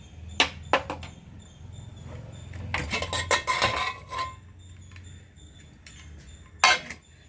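Dal rice in a pressure cooker on a home stove, the lid opened after the steam has settled, with metallic clanks and scrapes of pot and utensils in several bursts, fairly close and with no talk.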